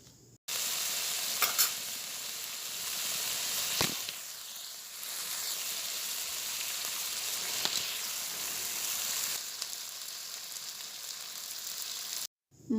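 Spice masala and pieces of fried fish cook in oil in a pan, giving a continuous close sizzling hiss with a few sharper spits and crackles, no voices.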